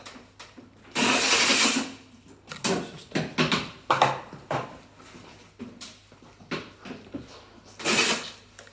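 A wrench works on a screw of a magnetic bicycle brake caliper, giving several close, loud bursts of metallic rasping and clicking with short pauses between them, alone without talk.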